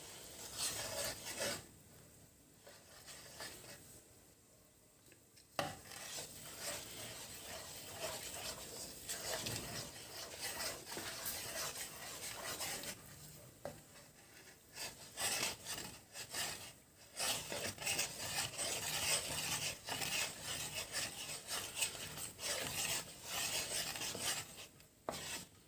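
Sesame seeds and peanuts are stirred while dry-roasting in a pan over low heat, a soft scraping and rasping that rises and falls with each stroke, with brief pauses, all faint and close.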